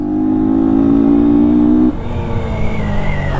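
A Yamaha FZ 250 motorcycle running without an air filter, its engine holding a loud, steady, close drone that drops in pitch near the midpoint as it eases off.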